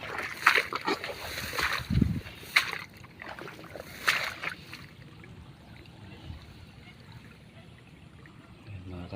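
Strong rushing water flowing through a rice paddy field, a steady watery roar with splashy bursts in the first half, then a quieter continuous flow.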